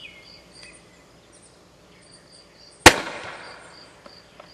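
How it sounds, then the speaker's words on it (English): An airsoft projectile grenade launches with one sharp, loud burst followed by a hissing decay, set against a quiet outdoor background with faint insect chirps. "Okay, firing."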